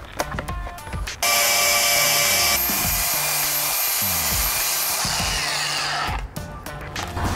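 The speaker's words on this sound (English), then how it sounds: "go ahead and grind off the coating on the frame" A power grinder strips the coating off a truck frame during a 4.5-inch Carli pintop lift install, starting after a second of clatter and running loud and steady with a pitch shift partway, then cutting out near the end.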